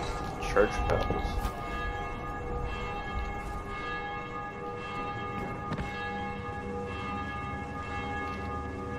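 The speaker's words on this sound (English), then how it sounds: "Church bells." Church bells toll in the zombie video game Dying Light, sustained ringing tones hanging over a city soundscape, with a few sharper knocks and rumbles mixed in and no clear talk.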